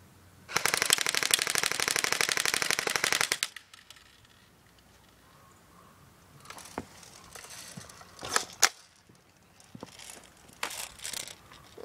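An airsoft Pulse R76 AK-47 style rifle fires on full auto in one loud, rapid, steady burst lasting about three seconds, followed by quieter scattered clicks and handling knocks.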